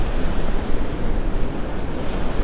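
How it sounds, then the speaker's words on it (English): Ocean surf washes continuously along the sandy Gulf shoreline of Vanderbilt Beach in North Naples, a broad, loud roar of breaking waves mixed with gusty wind buffeting the microphone. "I wanted to see what these waves were doing too."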